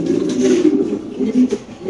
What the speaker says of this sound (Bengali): কবুতরগুলো দেখেন ভাই